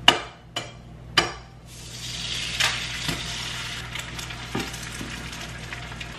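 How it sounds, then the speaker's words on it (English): An egg is cracked into a hot frying pan: three sharp taps on the shell, then a steady, close sizzle of frying that keeps crackling to the end. "So let's crack an egg."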